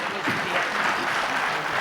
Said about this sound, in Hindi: तो हमारे तरफ से भी इनके लिए ताली बजा दिया जाए